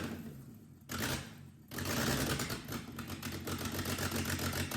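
A BMW E30 fitted with a 3.2 VR6 engine fires on first start-up: a short burst, a pause, then a loud, steady, clattering run close by with no talk.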